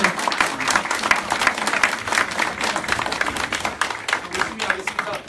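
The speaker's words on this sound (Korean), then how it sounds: "우리 13대 김성혁 회장님의 뜨거운 박수와 격려의 박수를 다시 한 번 더 드립니다" A hall audience at the Auckland Korean Society's annual general meeting and inauguration ceremony applauds a departing association president, the dense clapping swelling and dipping in waves with a voice faintly mixed in.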